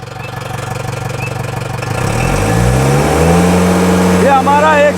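Tata 1109 BS3 truck diesel engine, fitted with an electronic EDC pump, revved at full accelerator from a steady idle, rising to a loud sustained high-rpm roar close by, with a voice speaking briefly near the end.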